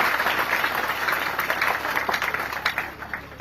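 Audience applause at an International Women's Day gathering, a dense, sustained wash of clapping from a crowd, moderately loud and continuous across the whole stretch, with a faint murmur of voices beneath.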